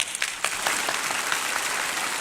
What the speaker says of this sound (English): Now multiple claps, like this.